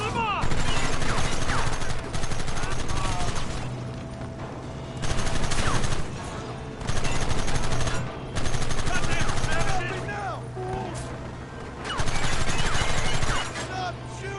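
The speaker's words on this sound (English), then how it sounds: "Stop shooting at me!" Bursts of rapid gunfire crackle through a shootout in Red Dead Redemption, loud volleys in repeated waves separated by brief lulls, with shouted voices and game ambience underneath.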